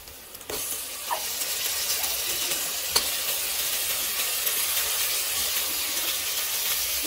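Soaked uppanchulu beans frying in ginger garlic paste give a steady, fairly loud sizzle that starts after a brief quiet moment and holds evenly throughout, with one small clink partway through.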